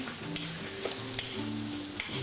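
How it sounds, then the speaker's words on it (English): Flour cooking with mushrooms in a pan to form a roux, a steady gentle sizzle with a faint hum in the background. "Let that flour cook for a couple minutes."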